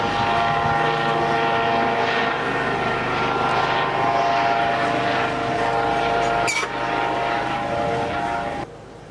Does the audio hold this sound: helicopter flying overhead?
yes